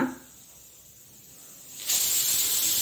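Steam hisses steadily from a pressure cooker on a gas stove while sweet prasada cooks, then a louder, brighter whistle blast bursts in partway and holds to the end, close and alone with no talk.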